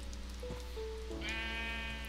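Sheep bleat in the Minecraft block-building game: a single wavering, nasal baa rises clearly over a steady low ambient hum, with no talking.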